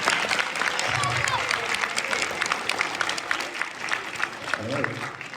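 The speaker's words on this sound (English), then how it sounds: "let's give all of us a round of applause." An audience at a school holiday music concert applauds steadily throughout, with crowd murmur and a voice speaking underneath the clapping.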